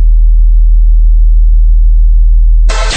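A steady, loud 40 Hz sine test tone holds unchanged for several seconds, then cuts off abruptly with a brief burst of broadband noise at the end.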